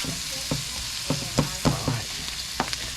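Samoan fried rice sizzles steadily in a hot pan while a utensil stirs it, sharp scraping knocks repeating every half second or so over the constant frying hiss, close up with no talk.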